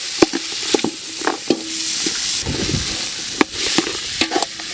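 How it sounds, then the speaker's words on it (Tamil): Chopped potatoes frying in a pan are stirred, the spatula scraping and clicking irregularly against the pan over a steady, soft sizzle. "நறுக்கி வச்ச உருளைக்கிழங்கு கிண்டு கிண்டு கிண்டு கிண்டு கிண்டு அடி பிடிக்கும்."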